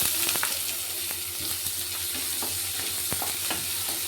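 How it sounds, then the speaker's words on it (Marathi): Chopped onion sizzles steadily in a hot pan of oil, a dense continuous frying hiss with scattered crackles and a few sharp clicks of a spoon against the pan, no voices. "त्यामध्ये लगेच कांदा घालायचा।"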